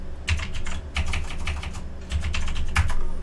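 Quick bursts of keystrokes on a computer keyboard as a password is typed, close and clear with short pauses between runs, no voices.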